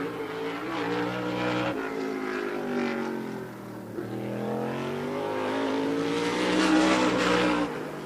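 A modified race car laps a speedway oval during a Turkey Derby, its engine droning loud and steady, then rising and falling as it comes through the turns, heard alone without talk.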